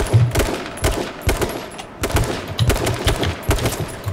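Rapid bursts of automatic gunfire in the battle royale game H1Z1, several loud volleys at close range separated by brief pauses, with no talking.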